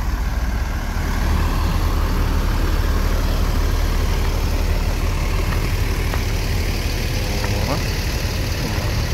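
A Gumarang Jaya bus sits idling at a busy bus terminal, its engine giving a steady, continuous rumble close by, with faint terminal noise around it.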